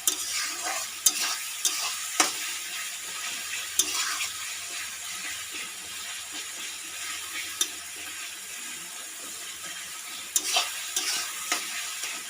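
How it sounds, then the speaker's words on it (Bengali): Sliced, salted onions frying and softening in a pan while a spoon stirs them, a steady close sizzle broken by occasional scraping clicks, with no voices. "দিয়ে পেঁয়াজগুলো নাড়তে থাকি, নাহলে নিচে ধরে যেতে পারে।"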